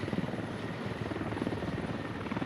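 A helicopter in a military video game, close and loud, with its rotor beating in a fast steady pulse and an engine drone underneath, and no voices.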